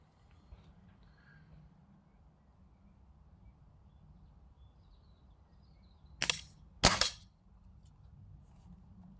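Two shots from a Diana 48 spring air rifle, a sharp crack followed a moment later by a louder one, close and distinct against a quiet outdoor background.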